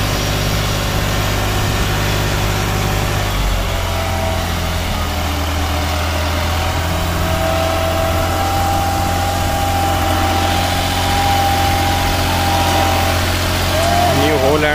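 A New Holland 3630 Plus 4x4 tractor hitched to a sugarcane planter runs with a steady, loud engine drone and a constant low hum throughout.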